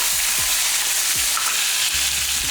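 Small shallots and garlic frying in hot oil for instant pongal, a loud, close, continuous sizzle with occasional stirring knocks from a spoon in the pan.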